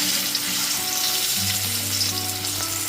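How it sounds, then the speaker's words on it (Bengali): Shrimp coated in salt and turmeric fry in hot oil, giving a loud, steady sizzle that fills the whole stretch with no voices. "এবার ওই একই তেলের মধ্যে লবণ আর হলুদ গুঁড়ো মাখানো চিংড়ি মাছগুলোকে দিয়ে দিচ্ছি"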